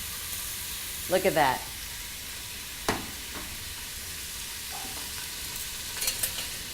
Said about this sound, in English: And we're going to sear the meat. You can hear it searing.